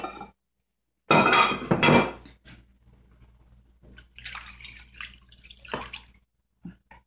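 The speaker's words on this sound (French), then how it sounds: "Je vais encore rajouter de l'eau." Water poured from a container into a large cooking pot while preparing Cameroonian poulet DG, a loud splashing burst followed by quieter trickles, drips and a clink of the pot.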